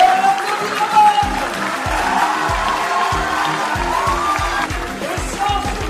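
Applause rolls on from an audience at a youth eloquence competition honouring second-prize winner Romain. The clapping is sustained and even, with a few voices audible over it.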